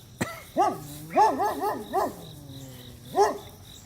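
A dog barks several times nearby, a quick cluster of sharp woofs followed by a pause and one more bark.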